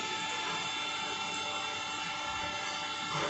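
A tapping machine threads a hole in a driveshaft with coolant running, giving a steady, continuous mechanical whine and hum close by that holds throughout, with a slight rise at the end.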